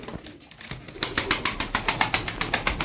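Young tumbler pigeons give a run of soft, regular flapping or clattering bursts that start after a quiet second and repeat evenly through the rest, close and fairly loud, with no talk.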